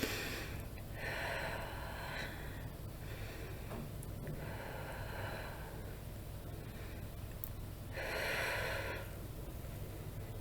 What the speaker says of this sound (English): take 3 deep breaths in